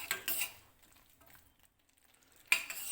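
Stirring a thickening Veg Manchurian mixture in a pan: two short scraping, clattering bursts at the start and end with quiet soft sizzling between, close and alone.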